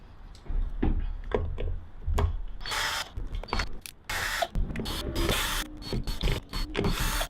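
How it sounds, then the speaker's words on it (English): Torx screws are driven out of a Xiaomi M365 electric scooter battery pack with a powered driver, giving repeated short mechanical whirring bursts with clicks and ratcheting between them, close and loud, with no speech. "Get the screws out."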